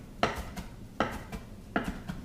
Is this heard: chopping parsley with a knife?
yes